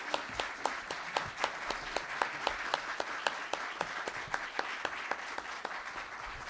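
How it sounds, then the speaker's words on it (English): Audience clapping at an evening public forum for school superintendent candidates, a steady moderate applause with individual sharp claps standing out, continuing evenly throughout without voices. "So let's give our candidates a round of applause."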